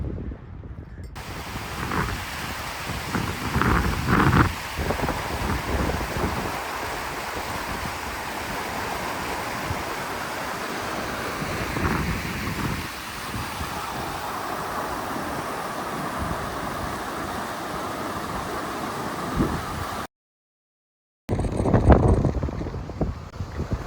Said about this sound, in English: So my hat just blew off my head. A little bit windy up here.